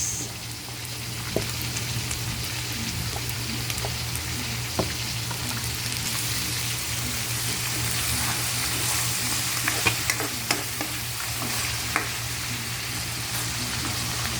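Onion and ginger sauté with fish sauce in a hot pan, giving a steady, even sizzle throughout with scattered light stirring clicks and taps, and no voices.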